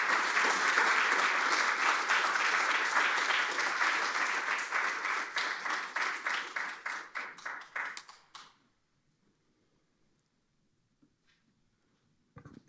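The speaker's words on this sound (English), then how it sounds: "Please give him a warm round of applause." Audience at a climate symposium applauds as a speaker is welcomed to the stage: dense, loud clapping that thins into separate claps and stops about two-thirds through, then near silence with a few faint stray sounds.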